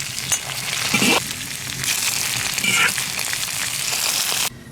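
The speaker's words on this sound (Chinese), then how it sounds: "葱姜炸干，下入干辣椒、花椒、八角、桂皮、香叶，炒锅。" Scallion, ginger, dried chili, Sichuan peppercorn, star anise, cinnamon bark and bay leaves sizzle and crackle steadily in hot oil in a wok, close and continuous with brief stirring scrapes, no talking.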